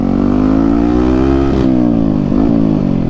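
A new motorcycle engine revving up close, a loud steady throbbing drone that rises slightly and then dips and wavers in pitch across three seconds, with no voices.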